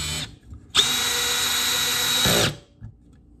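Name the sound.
Milwaukee M12 Gen3 hammer drill mechanical clutch driving screw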